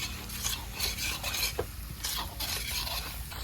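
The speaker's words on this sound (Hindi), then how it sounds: "बेसन आप प्याज के साथ भून लीजिए अच्छे से" Gram flour roasts with onions in a kadai over a low flame for village-style spinach saag, a soft close sizzle with rhythmic stirring scrapes and light ladle taps.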